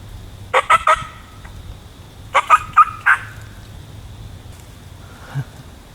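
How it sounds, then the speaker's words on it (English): Wild turkeys call in two short bursts of yelping clucks, fairly close against a quiet outdoor hum, with a fainter call at the end. "And here's these two turkeys coming in behind me."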